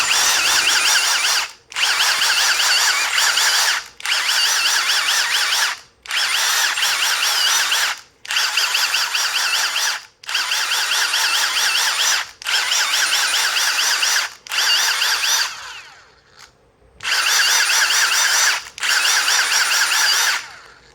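A Milwaukee M18 cordless power drill with an intermittent fault runs in repeated bursts of about two seconds each, whining loudly and steadily, separated by brief pauses, with no voices.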